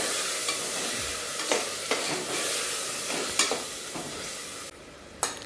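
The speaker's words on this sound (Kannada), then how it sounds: "ಪೇಸ್ಟ್ನ ಸ್ವಲ್ಪ ಹಸಿದು ಹಾಕಿದ್ವಲ್ಲ, ಹಸಿ ಸ್ಮೆಲ್ ಹೋಗೋ ತನಕ ಚೆನ್ನಾಗಿ ಫ್ರೈ ಮಾಡ್ಕೋಬೇಕು" Paste frying in a hot pan with a steady, loud sizzle throughout, broken by several sharp scrapes and taps of a spatula stirring, close and continuous with no talking.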